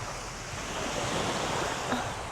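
Sea waves wash ashore beside a seaside seafood restaurant in Thailand, making a continuous, fairly loud surf roar with some wind buffeting the microphone and no speech.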